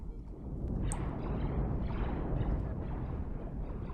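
Side guns on a spaceship fire at a double ion frigate in a space combat video game, giving a dense, continuous rumbling barrage of low booms with a brief sharp crack near the start.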